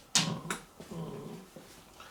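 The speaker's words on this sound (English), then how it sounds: "He's a very cute dog." A very old dog, over 20 years old, whimpers softly nearby in a few short, thin whines, with brief sharp clicks between them in an otherwise quiet room.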